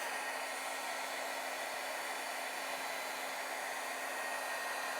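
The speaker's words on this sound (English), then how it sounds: "I'm going to do exactly the same thing and dry it with my heat tool." A heat tool drying alcohol marker ink blows a steady, loud whooshing hum with no change from start to finish.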